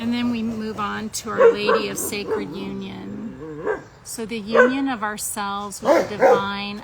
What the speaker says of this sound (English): I am so sorry about the dogs barking.